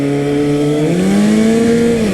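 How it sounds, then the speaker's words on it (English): A stunt motorcycle's engine, its idle raised toward 10,000 rpm, hums loudly and steadily, then climbs to a higher, whining pitch and holds there, close and continuous. "I'm going to crank up my idle to 10K."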